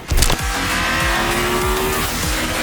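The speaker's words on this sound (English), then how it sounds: "watch the engine spool up quickly. Also love the change in the exhaust note, which turns into this angry snarl" Loud Triumph Tiger 1200 GT Pro motorcycle engine revving at high rpm with a rising, snarling exhaust note, sustained and close, with a brief sharp burst at the start.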